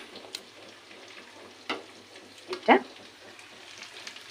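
Turmeric paste dissolved in water sautéing in hot oil with spices, a low steady sizzle with a few louder spits and a brief sharp crackle near the end.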